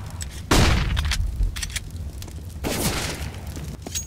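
A flashbang grenade is thrown and detonates in Counter-Strike, with a sharp, loud burst early on, a second softer burst a couple of seconds later and scattered in-game noise between them.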